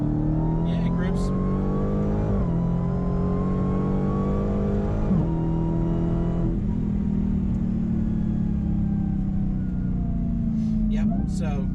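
A 2021 Dodge Challenger Super Stock engine revs steadily under load in third gear near 3,000 RPM, a loud close droning rumble that climbs and dips in pitch as the car accelerates.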